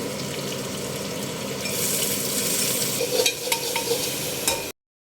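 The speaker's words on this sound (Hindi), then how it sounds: "इधर भुन रहा है प्याज" Onions fry and sizzle in a pan in a home kitchen, a steady hiss that thickens partway through, with a few clinks of stirring near the end before cutting off abruptly.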